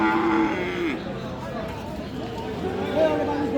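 Cattle at the Aftabganj livestock market, including cross-Friesian bulls and calves, give a loud, close moo at the start, followed by lowing and crowd chatter while someone talks over it.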